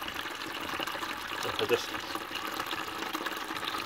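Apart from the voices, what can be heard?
water running from a wheelie bin water butt tap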